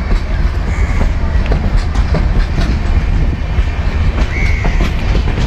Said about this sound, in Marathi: जस्ट येते मांडवी एक्सप्रेस